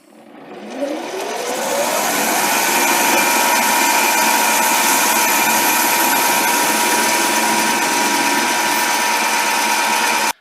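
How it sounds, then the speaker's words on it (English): A metal lathe holding a workpiece in a 4-jaw chuck spins up with a rising whine, then runs steadily and loud through a facing cut, a continuous motor hum with cutting noise and no talking. "And here again I'll make a quick facing cut."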